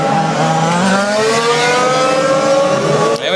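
A 1/5 scale RC Mini Cooper race car's engine buzzes loud and close as it passes on a track during a French championship final, its whine sliding in pitch as it goes by with the rest of the field.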